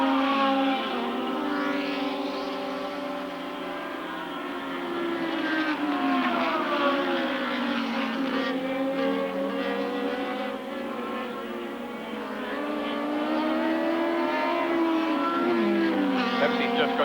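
Formula 2 race cars, including a small white car, racing around Lakeside Raceway in a 1983 Australian Drivers Championship round: a steady, loud high-pitched engine whine rising and falling with gear changes, with commentary talking over it throughout.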